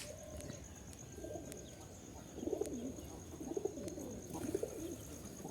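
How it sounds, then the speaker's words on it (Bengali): Pigeons in a tree cooing in soft repeated low phrases, faint and somewhat distant, with a few chirps and a thin steady background hum, no talk. "আর ওই যে গাছে আছে কবুতরগুলা।"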